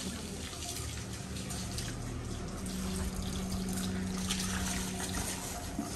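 Water splashing and running steadily across a hard porch floor and outdoor area being washed, a continuous wash of liquid noise with a low hum underneath and no voices.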